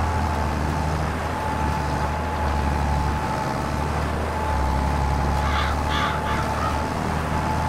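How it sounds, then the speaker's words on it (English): Bird in the farming video game Farming Simulator 22 gives a few brief caws midway, set against a steady droning machinery hum with faint talk. "it looked like the camera just hit the bird."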